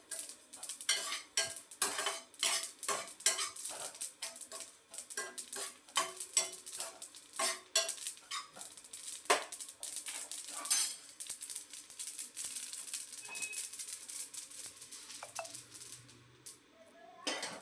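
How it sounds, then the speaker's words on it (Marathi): Sesame seeds and peanuts dry-roasting in a pan, stirred with a spoon in irregular scraping and rattling strokes, light crackle beneath, fairly close and alone without voices. "तीळ हलकीच भाजायची आहे, कारण जास्त भाजली तर मग ती करपते आणि कडसड लागते"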